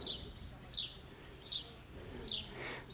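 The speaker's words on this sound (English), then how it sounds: "a gorgeous bird song." Outdoors a songbird repeats short bright chirping phrases about every three-quarters of a second, faint and slightly distant over a soft background hiss.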